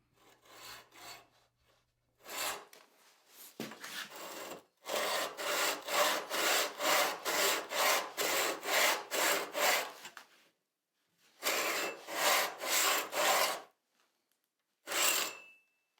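A hand saw cuts a wooden tenon for a Shaker-style door frame, giving close, crisp back-and-forth rasping strokes in steady bursts separated by brief pauses, with no voices.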